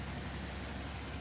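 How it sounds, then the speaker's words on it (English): A generator runs nearby, giving a loud, steady broadband roar with a low rumble and no change or break across the short stretch, and no voices over it. "There's a generator here, guys. Sorry about the noise."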